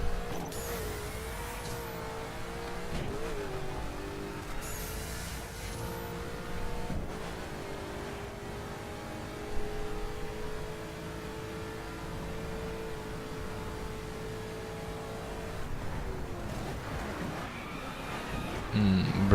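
Alfa Romeo 8C Competizione engine in The Crew racing game, revving and shifting through gears on a downhill track with rising and falling pitch, moderately loud.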